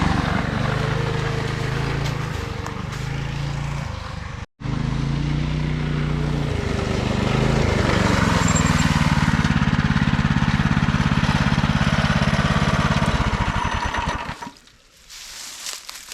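Small minibike engine revving and droning steadily during a ride, loud and close with rising and falling pitch and a brief cut-out early on, before fading away near the end.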